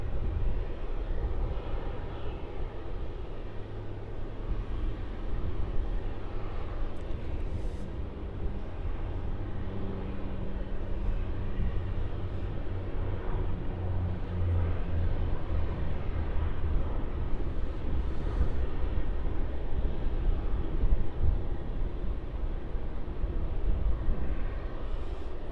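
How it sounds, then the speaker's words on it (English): A Rex Saab 340 turboprop lands on runway 34 at Melbourne Airport in cold weather, arriving from Mildura, its steady low engine drone and broadband rumble holding fairly loud and even throughout with no talk. "And here's that Rex Saab 340 landing on runway 34 from Mildura."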